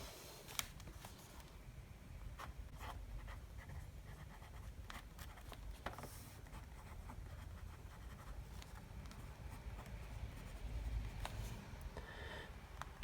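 Pen nib scratching across paper while writing out a handwriting sample, a faint, steady close-up scratch with small taps and strokes continuing throughout, no talking.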